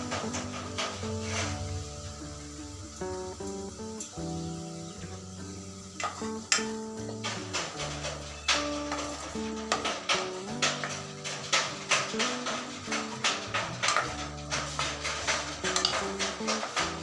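A spoon stirs spinach with turmeric, cumin and coriander powder in a frying pan, giving soft scraping and gentle sizzling that runs under background music.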